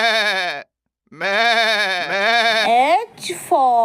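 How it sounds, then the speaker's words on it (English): Goat bleats in a children's alphabet phonics song: two wavering, nasal bleats, a short one and then a longer one, with a brief gap between them, followed by a further bleat near the end. "G for goat."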